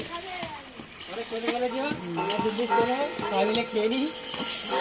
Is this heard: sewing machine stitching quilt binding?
no